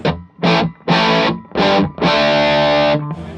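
Heavily distorted electric guitar through a high-gain J Rockett pedal with the gain cranked up plays a few short chugging bursts, then a longer sustained chord, loud and saturated with no talking.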